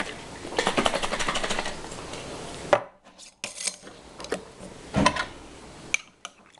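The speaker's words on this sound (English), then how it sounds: "Shake it up real nice and good." Lidded jar of cold-press oats with milk and seeds being shaken hard, a burst of rapid rattling and sloshing that stops abruptly, followed by a few separate knocks and taps.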